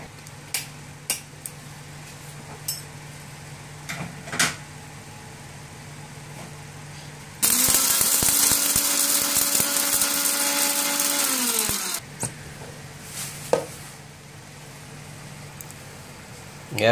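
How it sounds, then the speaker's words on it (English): A kitchen blender grinds roasted spice ingredients with salt into a coarse powder, one loud steady whir of about four seconds that spins down abruptly, framed by quieter clinks and handling noises before and after. "We're going to grind this one in the blender."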